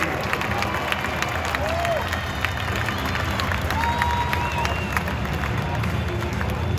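A baseball stadium crowd cheers and claps for Todd Hundley at an Old Timers Day introduction, a broad steady roar with scattered whistles over a public address voice.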